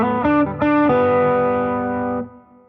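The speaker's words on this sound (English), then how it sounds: "If I play on my fingertips, I often get unwanted noises." Distorted electric guitar played with the fingertips, a couple of quick picked notes followed by a sustained ringing note that fades out, loud and close.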